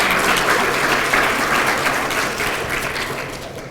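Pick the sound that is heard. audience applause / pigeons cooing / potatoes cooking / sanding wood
audience applause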